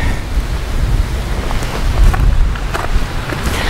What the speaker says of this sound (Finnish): Voin sanoa, että nyt huipulla tuulee.